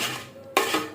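A spoon or ladle scrapes and clinks in a pot while broken rice with onion, chili, salt and oil is stirred, a soft scraping stroke followed by a sharper clatter, close and alone.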